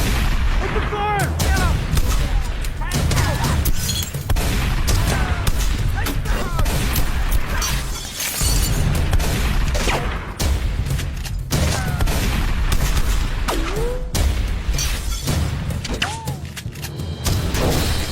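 Loud, sustained gunfire and heavy booming explosions fill an action-movie battle scene, with bursts and blasts running continuously under shouted voices.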